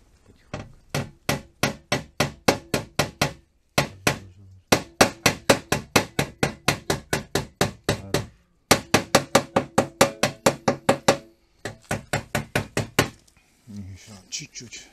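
A small hammer taps repeatedly on joined metal roof gutters during soldering, a steady run of sharp, close metallic knocks in several bursts with short pauses.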